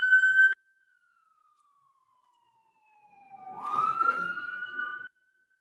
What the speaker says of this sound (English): There's lots of ambulances that go by. I'm going to pause for just a minute and let this one go by.